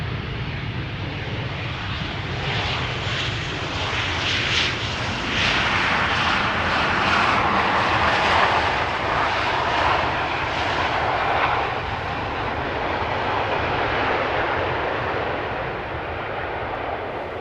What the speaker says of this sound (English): There's our A350 taxiing back to the main platform area.